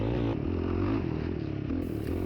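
A quad ATV engine labors on a steep hillside during an off-road race, loud and close with a steady, throbbing drone that shifts pitch slightly as the rider works the throttle.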